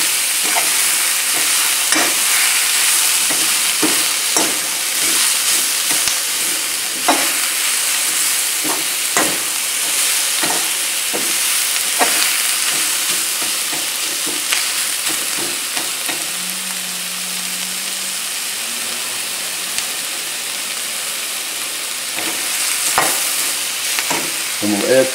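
Onions and bacon frying in a pan, a continuous bright sizzle broken by repeated scraping strokes of a spoon stirring, close and fairly loud, with a brief low hum partway through.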